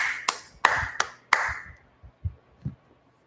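Four sharp, loud hand claps in a quick irregular rhythm, each ringing briefly, followed by a few softer low thumps fading out.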